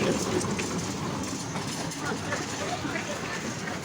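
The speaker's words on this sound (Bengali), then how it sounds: "ট্রেন ঝক ঝক ঝক ঝক ঝক ঝক" A small fairground toy train rolls along at a fair in Natore with a continuous rumble and clatter, surrounded by busy crowd noise and indistinct chatter.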